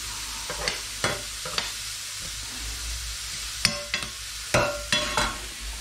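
Steady sizzling and spitting of chorizo frying in a hot pan, with a few sharp scrapes and stirring knocks on top.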